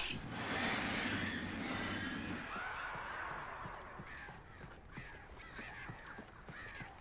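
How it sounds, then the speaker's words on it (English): Several harsh caws from crows, loud at first and then fading into softer, scattered calls in the distance. "Yeah, because I hear birds."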